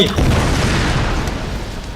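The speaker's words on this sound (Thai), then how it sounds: "ระเบิดไป" A loud, deep explosion booms at once in Tomb Raider gameplay, a dense rumbling burst that slowly trails off over two seconds.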